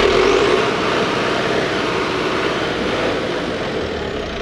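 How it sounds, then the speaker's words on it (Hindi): A Belarus tractor with a Lamborghini engine runs continuously nearby, giving a loud, steady, broadband engine roar that holds its level throughout, with no talk over it. "ट्रैक्टर की आवाज़ बहुत ही ज़्यादा धाकड़ है, बहुत तेज़ है,"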